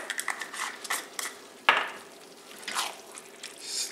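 A spoon stirring cayenne pepper into a pot of chili, a few wet squishing drips and soft utensil taps against the pot, close and intermittent with one sharper clink midway.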